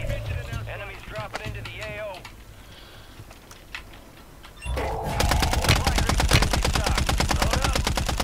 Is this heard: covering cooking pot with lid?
no